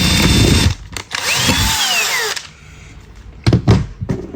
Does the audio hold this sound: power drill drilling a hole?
yes